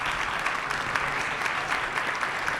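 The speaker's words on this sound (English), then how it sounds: "let's give one more hand, a round of applause to our esteemed panelists" Audience applause for panelists at a conference session, a dense, even wash of many hands clapping, sustained and moderately distant, with no talk over it.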